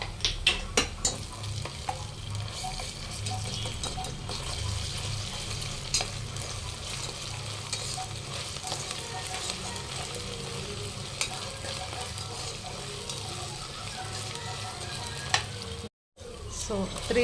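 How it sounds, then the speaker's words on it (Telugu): Sliced onions with ginger garlic paste frying in a pan, a steady soft sizzle with occasional stirring scrapes, quiet and close, with no talking. "ఇలా వేయించేసుకున్న తర్వాత 1 టేబుల్ స్పూన్ అల్లం వెల్లిగడ్డ పేస్ట్ వేసుకోండి."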